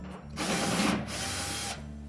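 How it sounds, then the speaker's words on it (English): A power drill backs a screw out of the top panel of a Whirlpool dryer in one close, loud whirring burst of just over a second, with quieter mechanical ticking before and after. "start by removing these two screws that secure that top panel."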